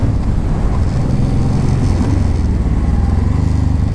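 A Honda VTX 1800 motorcycle accelerates on the road, its engine a loud, continuous low rumble that holds steady and close throughout with no talking.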